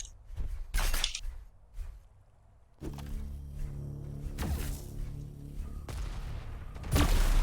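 Rail gun shots in a video game, with several sharp, loud bursts spaced a few seconds apart over a steady humming background, with no talking.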